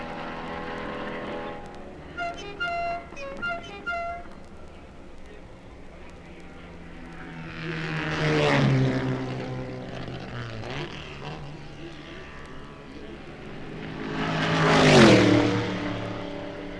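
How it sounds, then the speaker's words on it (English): Race cars at Le Mans in 1964, during the final pit stop of an Austin Healey Sprite, with an engine ticking over nearby before two loud engine passes swell and fade as cars sweep by at speed. "The Austin Healey Sprite of Clive Baker and Bill Bradley comes in for its final routine pit stop for more fuel."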